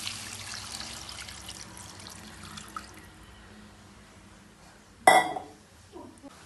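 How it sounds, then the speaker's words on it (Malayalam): Water poured into a pot of simple Kerala sardine chili curry, a steady low splashing and trickling wash through the first seconds, followed by a sharp clink of a vessel near the five-second mark and some faint rattles after. "അപ്പം നമുക്കിതിന് ആവശ്യത്തിനുള്ള വെള്ളം ആഡ് ചെയ്ത് കൊടുക്കാം"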